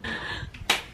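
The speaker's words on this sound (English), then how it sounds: "That was a clap." A single sharp hand clap rings out near the end, loud and close, after a brief stretch of indoor room noise.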